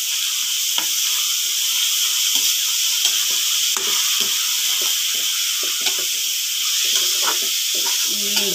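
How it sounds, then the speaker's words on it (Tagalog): Ground beef and ham sauté in a hot pan with a loud, steady sizzle and hiss, broken by frequent clicks and scrapes of stirring close by. "Igisa natin ang ating karne ng baka at ang ating ham hanggang sa mag-brown siya ng konti."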